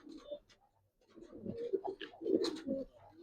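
Giribaz silver pigeons coo at close range, soft throaty burbling calls rising and falling in short bursts with brief quiet gaps.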